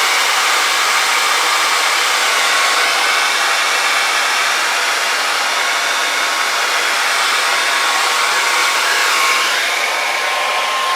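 A blow dryer blasts air across an acrylic fluid paint pour for bloom sphere experiments, a loud, steady, close whoosh that runs unbroken throughout with no talking.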